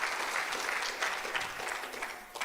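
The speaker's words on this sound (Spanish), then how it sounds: "Ahora denle un fuerte aplauso al Señor" A church congregation applauds steadily, a dense, sustained wash of many hands clapping at close to moderate distance, with no clear voices above it.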